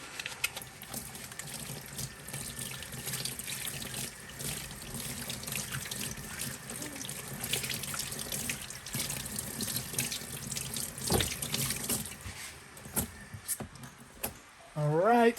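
A newly installed shop sink faucet runs in a continuous steady stream, splashing into the basin at close range, with a brief handling clatter near the end.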